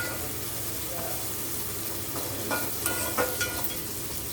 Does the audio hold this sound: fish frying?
yes